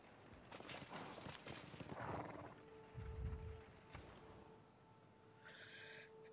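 Horses gallop in Civilization VI, a quick clip-clop of hooves heard faintly in short bursts, with a snort or whinny amid soft game sounds.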